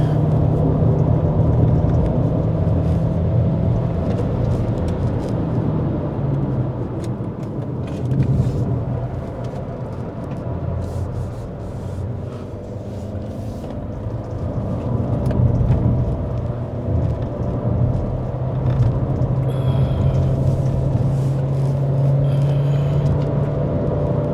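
A Chery Tiggo Cross drives along a road with a steady low engine drone and rumble inside the cabin, the pitch rising and easing slightly as gears change.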